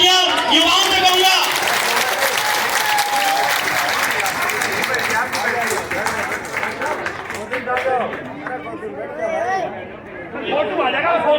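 A crowd at a political gathering claps loudly and steadily for a speaker, dense applause with chatter and voices mixed in, easing slightly toward the end.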